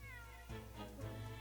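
A cat meows in The Great Ace Attorney 2 Resolve, a soft drawn-out game sound effect followed by a second meow, quiet and alone.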